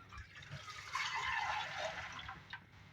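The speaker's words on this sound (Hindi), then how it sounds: "थोड़ा सा और पानी ऐड कर ताकि कुक होगा" Water poured into a pot of cooking dal, a steady splashing pour lasting a couple of seconds before trailing off.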